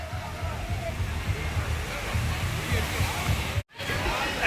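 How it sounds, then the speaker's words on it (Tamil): Lucky Falls waterfall rushes in a constant, dense roar close by, with faint voices blended into the steady wash of water and a brief dropout near the end. "லக்கி ஃபால்ஸ் வந்திருக்கோம்"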